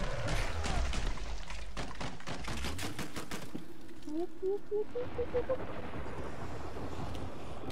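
Grenades burst in a quick chain during a Killing Floor 2 co-op match on a lava map, several booming blasts over the first few seconds, then a calmer stretch as players chat over the game.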